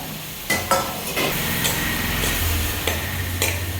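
Onion, green chili and curry leaves sauté together in a pan for a Kerala fish curry, with a steady hiss and several sharp scraping stir clatters scattered through, close and moderately loud, no talk.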